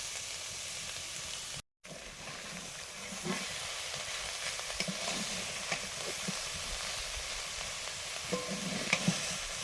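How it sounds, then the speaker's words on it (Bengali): Fish pieces coated in salt, turmeric and chili powder fry in hot oil with a continuous close hissing sizzle, a brief dropout near the start, and occasional stirring taps later on. "এতগুলোকে নুন হলুদ লঙ্কা গুঁড়ো মাখিয়ে একটু ভেজে নিচ্ছি"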